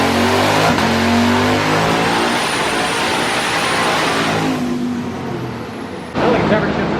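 A twin-turbo Camaro ZL1 with a 10-speed automatic pulls hard under acceleration, its loud, rising engine roar broken by a quick shift partway through and another near the end, heard close with no speech.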